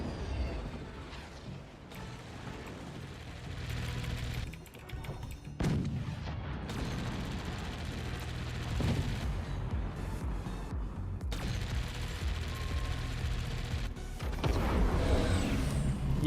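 Cannons fire repeatedly in the siege game Forts, a dense, continuous barrage of deep booms and blasts layered over one another with no pauses and no talking.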